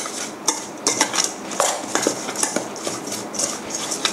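Sugar, fish sauce and oyster sauce being mixed in a bowl for a lemongrass grilled pork marinade, with repeated close clinks and scrapes of a utensil against the dish in an uneven rhythm.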